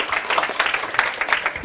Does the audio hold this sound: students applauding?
yes